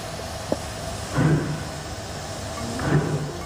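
Puffing Billy, a preserved narrow-gauge steam train in Australia, chuffs in two slow, soft, hissing exhaust beats heard at moderate distance over a low steady rumble.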